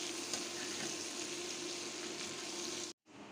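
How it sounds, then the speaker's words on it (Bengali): Prawns frying in a pan with salt, a steady sizzle and bubbling hiss with soft stirring, fairly quiet and close, cutting out briefly near the end before the sizzle returns. "আর দিয়ে দিচ্ছি লবণ। নেড়ে চেড়ে মাছগুলো তুলে নিব।"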